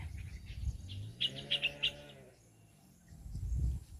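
Several quick bird chirps sound in a short burst over a low, cooing tone and soft outdoor rumble, moderately close.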